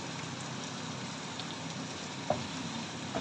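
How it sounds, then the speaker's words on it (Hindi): Whole spices (a small piece of cinnamon, two cloves and a black cardamom) frying in oil for daal mash, giving a steady, soft hiss and crackle throughout, fairly quiet with a couple of small pops. "इसको हम इसके साथ अच्छी तरह से फ्राई करेंगे ताकि इसका फ्लेवर जो है वो इस मसाले के अंदर आ जाए।"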